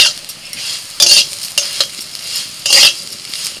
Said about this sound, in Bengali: এবার ভাজা করলাটা দিয়ে দিচ্ছি। এবার একসঙ্গে সব ভাজা হয়ে যাবে।